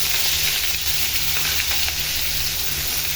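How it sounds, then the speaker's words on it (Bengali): Chopped onion frying with cumin seeds in a hot pan gives a loud, continuous close sizzle with faint stirring scrapes running through it and nobody speaking. "জিরাটা একটু ভাজি ভাজি হয়ে সুগন্ধি বের হলে আমি এর মধ্যে দিয়ে দিব পেঁয়াজ কুচি"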